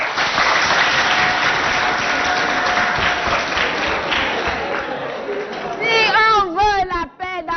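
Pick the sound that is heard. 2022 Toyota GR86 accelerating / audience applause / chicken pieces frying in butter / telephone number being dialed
audience applause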